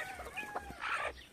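Chickens on a farmyard clucking briefly, a short run of soft, nasal clucks and calls close by, fairly quiet, with no talk over them.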